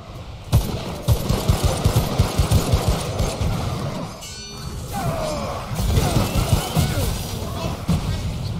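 Enemy bows and javelins fitted with fireworks in the video game Remnant: From the Ashes, firing a rapid burst of crackling blasts and pops, followed by scattered explosive bangs and crashes.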